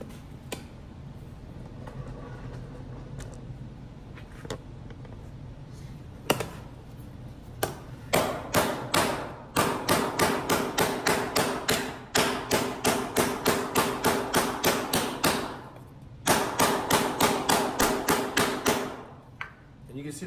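Hammer blows on a curved sheet metal panel, walked along the edge near its flange: sharp metallic strikes, sparse at first, then rapid steady bursts of close, loud taps with brief pauses between runs.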